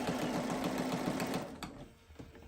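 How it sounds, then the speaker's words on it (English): A sewing machine stitches slowly through a mermaid tail with a steady close-up whirring hum. The hum cuts off after about a second and a half, leaving a few soft mechanical clicks. "I'm just going to stitch it kind of slow"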